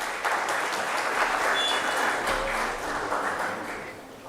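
An audience at a biotech skilling programme session applauds a panelist, a dense, steady wash of many hands clapping at moderate distance that holds for several seconds before easing slightly at the end.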